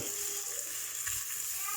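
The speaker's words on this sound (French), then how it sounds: "mes petits légumes cuisent" Vegetables sizzle and fry steadily in a pan, a close, continuous crackling hiss with no talking.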